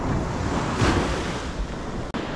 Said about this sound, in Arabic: هذا البحر وصلنا، هذا الموج ما شاء الله